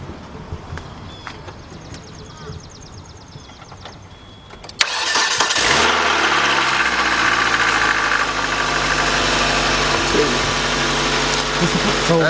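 A 1999 Nissan Altima with the 2.4 engine, jump-started from a slightly corroded battery, cranks briefly and then catches, settling into a loud, steady idle close by.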